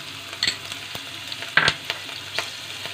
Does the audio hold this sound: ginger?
yes